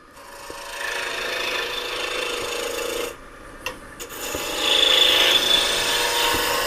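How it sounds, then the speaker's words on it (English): Square piece of wood being turned round on a wood lathe, a steady close abrasive rubbing and scraping of the cutting tool on the spinning wood that briefly drops away, then returns louder. "And stop the lathe a minute."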